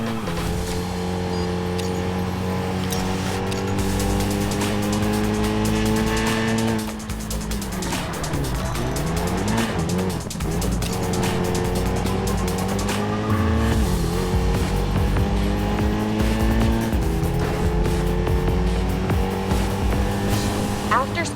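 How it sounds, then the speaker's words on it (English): Video game car from Racing Master drifting through a corner, its engine droning steadily with pitch sweeps as the tires squeal, loud and continuous throughout. "After starting the drift, keep the throttle."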